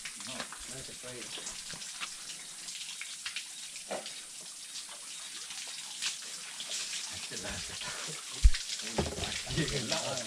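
Water trickling and dripping from a spring in a shaded forest, a steady soft flow with occasional drops, under someone speaking Spanish nearby.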